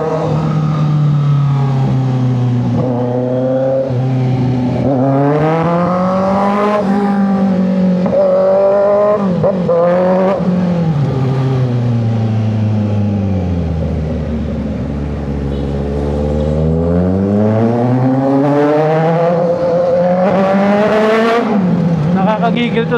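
Kawasaki Z900 motorcycle fitted with a full system exhaust, engine revving up and down continuously with rising and falling pitch, loud and close throughout, with sharp throttle blips between longer sweeps.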